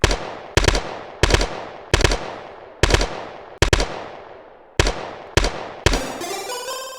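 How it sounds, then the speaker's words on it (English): Repeated single gunshots from a video game weapon, about nine sharp loud reports at irregular intervals, each decaying with a short reverberant tail, the last one ringing into a metallic tone. "I feel like I'm losing a bullet every time I pull the trigger"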